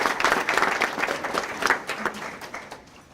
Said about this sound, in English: I want to give him a round of applause and thank them for their commitment as well.